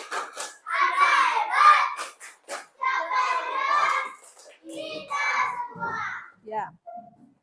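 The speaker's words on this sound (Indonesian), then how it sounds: "Tepuk hebat." Schoolchildren in a Hindu religious education class chant the rhythmic 'tepuk hebat' clapping routine, young voices in unison punctuated by sharp sets of hand claps, close and lively.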